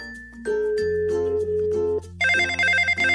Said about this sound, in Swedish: Vem kan det vara som ringer?